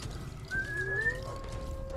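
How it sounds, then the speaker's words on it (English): A character whistles in the video game Far Cry 3, a single sliding tone that rises and then holds, heard over low game ambience with no speech. "They reacted to my whistling."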